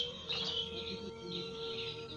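Birds chirp faintly over a field being ploughed by oxen, a few soft high tweets repeating against a quiet outdoor background.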